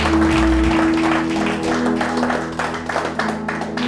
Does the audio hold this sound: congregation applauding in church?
yes